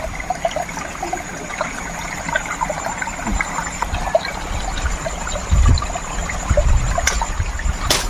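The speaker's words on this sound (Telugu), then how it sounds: "చూడండి ఫ్రెండ్స్, వాటర్ సౌండ్ అయితే ఎలా వస్తుందో" Water trickles and flows over a flat rock slab near a cave, a steady soft wash with light splashes and a few louder low gurgles later on, no talking.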